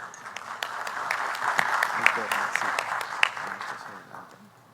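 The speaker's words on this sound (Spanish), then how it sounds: "Lo recibimos con un fuerte aplauso" Audience applause at a Peruvian legal conference for a court president, a steady, moderate patter of many hands in a room that swells and then eases, with some background voices.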